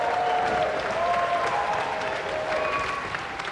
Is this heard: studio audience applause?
yes